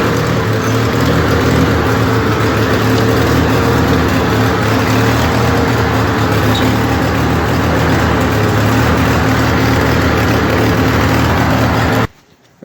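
A John Deere 316 garden tractor engine runs rich, a loud steady close-up rumble that holds for about twelve seconds before abruptly cutting off.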